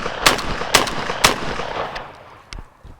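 A Panzer Arms M4 semi-auto shotgun fires Remington Sportsman high-speed steel shells: three sharp, loud blasts in quick succession with echoing tails, then a softer thud near the end.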